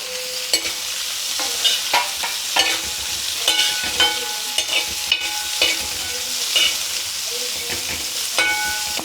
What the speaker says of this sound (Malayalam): ഇനി നമുക്ക് ചുവന്നുള്ളി ഇടാം. ഇതിൻ്റെ കൂടെ തന്നെ നമ്മുടെ തേങ്ങാക്കൊത്തും കൂടി ഇടാം.